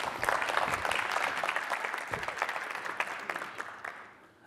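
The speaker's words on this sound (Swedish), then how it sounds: "En applåd." An audience claps for a speaker being welcomed onto a stage at a Swedish talk event, a dense burst of applause that holds steady and then slowly thins out.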